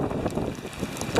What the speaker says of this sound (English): And there's one of the gusts now.